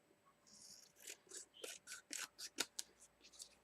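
Scissors snip through paper for a craft fridge magnet holder, about a dozen quick crisp cuts in an even rhythm, close and fairly quiet with no talking.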